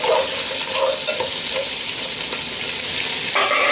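Vegetables fry in a pan while cooking for BBQ pulled pork, with a loud, close, continuous sizzle and light stirring scrapes, and no talking.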